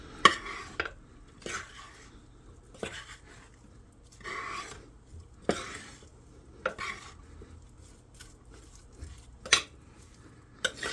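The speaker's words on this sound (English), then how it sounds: "stir that up a bit" Garlic and beef stew ingredients are stirred in a crockpot with about ten separate scraping strokes of a spoon, each a brief rasping burst over a quiet background, with no talk.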